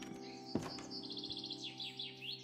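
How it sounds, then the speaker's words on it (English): Birds chirp and tweet in a Minecraft game world, quick repeated high trills and calls layered over a steady low ambient hum, fairly close and clear with no talking. "Oh, that's why there's birds."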